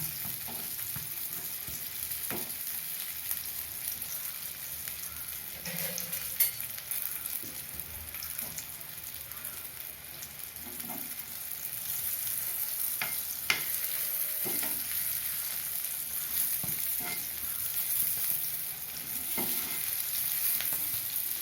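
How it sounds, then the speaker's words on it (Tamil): Brinjal slices shallow frying in a pan for a spicy brinjal fry: a long, even crackling sizzle with occasional soft spatula scrapes and taps as the slices are turned, no one talking. "இந்த பக்கம் திருப்பி போட்டு இன்னும் ஒரு அஞ்சு நிமிஷம் ஃப்ரை பண்ணால் சரியாக இருக்கும்"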